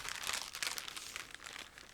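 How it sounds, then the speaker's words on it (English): Plastic bag crinkles and rustles as model kit parts for a Meng 1/24 Audi R8 LMS GT3 2019 shift around inside, quiet and close, in irregular crisp bursts with no talking. "I just need to catch them because they're all flying around the plastic bag"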